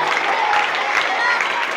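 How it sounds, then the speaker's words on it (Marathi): Loud, dense clapping from a crowd chanting Vitthal at a devotional gathering, a continuous sustained wash of many hands with no breaks. "ज्यानं खरोखर जोरात टाळ्या वाजवल्या"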